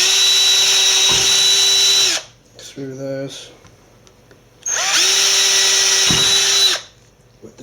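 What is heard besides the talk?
drilling with a larger drill bit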